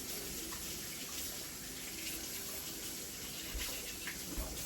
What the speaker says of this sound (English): let me go ahead and wash my hands real fast